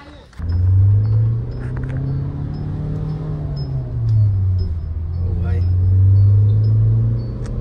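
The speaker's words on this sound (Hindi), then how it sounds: "तो गाइज ये रही the all new Mahindra Thar rocks five door" A Mahindra Thar Roxx 5-door SUV engine idles with a deep, steady close rumble that swells slightly twice, while someone talks over it.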